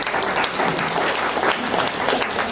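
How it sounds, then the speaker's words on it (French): Steady applause from an audience at a peace movement delegation gathering before a film screening, dense clapping holding at an even level throughout without pause. "On peut applaudir quand même, ouais."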